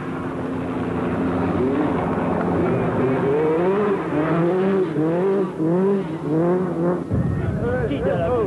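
A rally car on a 14 km special stage of the 1984 Costa Smeralda rally approaches with a rising, revving engine that climbs and drops through gear changes, under continuous commentary.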